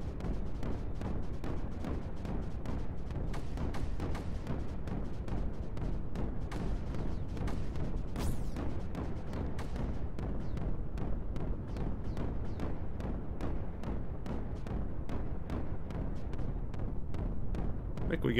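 Rapid, dense cannon fire in Creeper World 4, booming shots in a steady barrage with no pauses throughout.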